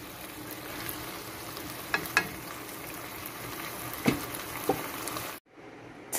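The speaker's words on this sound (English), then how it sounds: "you see now that it's starting to boil, the noodles are coming apart" A pot of pasta Alfredo sauce with noodles bubbles and sizzles as it starts to boil, a steady close hiss with a few soft pops, breaking off briefly near the end.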